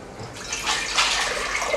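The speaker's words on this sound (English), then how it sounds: "In high heat, add the water," Water poured into a pot over high heat to start a honey syrup for melomakarona, a steady close rushing splash that swells slightly as it flows.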